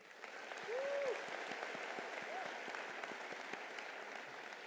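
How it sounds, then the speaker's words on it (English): Audience at a university summer commencement ceremony applauds the pianist, steady moderate clapping from a large crowd in a hall, continuous throughout with faint voices mixed in. "a big round of applause for our pianist"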